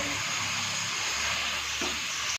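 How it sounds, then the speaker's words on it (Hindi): Tomatoes cook in a hot pan for a ridge gourd (tori) curry, giving a loud, continuous hissing sizzle with a brief stirring scrape near the end. "टमाटर को अब हम 1 मिनट के लिए इसमें पकाएंगे, नरम हो जाए"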